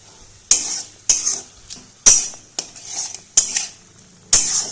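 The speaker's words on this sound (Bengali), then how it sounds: "আবার ভালোভাবে কষিয়ে নিচ্ছি" Coriander, cumin and green chilli paste fries in oil in a pan, stirred in about seven sharp scraping strokes, each over a crackling sizzle.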